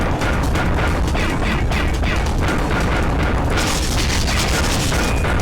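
Wumpa fruit shot repeatedly at a boss in Crash Bandicoot 2, a loud, dense run of rhythmic thuds and impacts with crashing game effects and constant background music.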